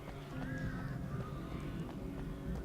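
Crows cawing overhead in the video game Alan Wake, a few harsh caws from one or two birds at moderate distance over a low, steady ambient bed.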